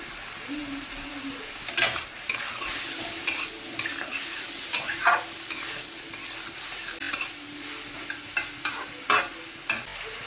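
Snake gourd (chichinga) frying in a pan on raised heat, with steady sizzling and repeated scraping stirs of a spatula at an irregular rhythm, close and clear.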